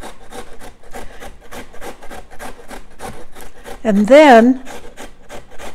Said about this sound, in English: you grate the potatoes on the largest size of the box grater